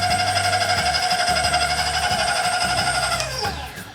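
An electric hand mixer beats butter and cream cheese in a bowl with a loud, steady whine, then slows and drops in pitch toward the end.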